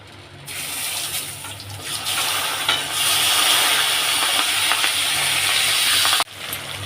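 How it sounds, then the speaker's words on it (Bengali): Cut vegetables tipped into a hot wok after frying puti fish, giving a loud, steady hiss and crackle that swells and holds for several seconds before cutting off abruptly near the end. "এবারে কড়াতে আমি সবজিগুলো দিয়ে দেবো"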